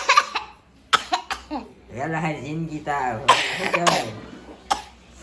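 A woman who is ill coughs in several quick, close bursts, with talk and some laughter around the coughing.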